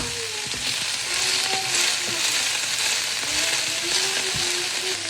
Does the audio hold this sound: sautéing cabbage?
yes